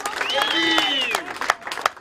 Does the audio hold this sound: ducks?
no